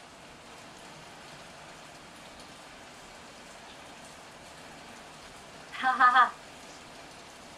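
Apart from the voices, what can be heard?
constant heavy rain in the video game Heavy Rain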